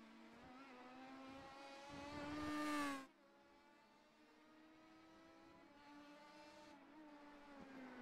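Pro Mazda race cars lapping in the iRacing simulator, a high engine whine climbing in pitch as a car accelerates and rushes past, then steadier droning engines of the field continuing at moderate volume.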